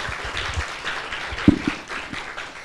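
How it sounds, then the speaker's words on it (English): Audience applause at the close of a public lecture on vernacular architecture, a soft, steady patter of many hands clapping at moderate distance, with a slightly louder burst partway through. "Can we give a big applause?"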